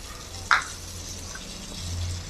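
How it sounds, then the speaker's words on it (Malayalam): Chopped onion, tomato and spices hit hot oil in a pan with a sharp clatter, then a soft, steady sizzle and faint stirring, with no talk. "എണ്ണ കുറച്ച് ചൂടായി വരുമ്പോഴത്തേനും നമുക്ക് ഇതിലേക്ക് അരിഞ്ഞു വെച്ചേക്കണ ഉള്ളി"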